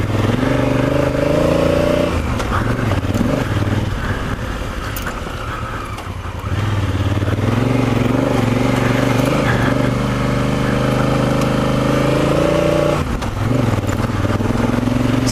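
Honda Africa Twin adventure motorcycle on a rally-style ride, engine droning loud and steady close up with a brief dip in the middle, wind and road rumble mixed in.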